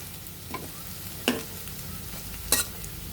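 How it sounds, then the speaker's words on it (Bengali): Drumstick leaf fritters fry in oil with a steady, moderate sizzle, punctuated by a few brief scraping clicks as they are turned. "আমরা ভালোভাবে এর ওপাশ উল্টিয়ে ব্রাউন কালার হওয়ার আগ পর্যন্ত এভাবে পুরাগুলো ভেজে নিতে হবে"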